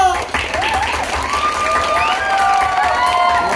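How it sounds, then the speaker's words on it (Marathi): Theatre audience at a Marathi comic stage play applauding, a dense, steady wash of clapping with some cheering, while voices on stage carry over it. "टाळ्या."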